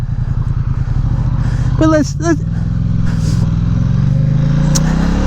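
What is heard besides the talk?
Ducati XDiavel S motorcycle engine revving while riding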